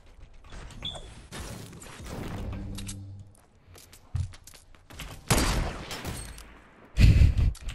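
Pump shotgun blasts in a video game, a few loud booming shots spread across the stretch with the heaviest near the end, mixed with clanking game effects and bursts of noise.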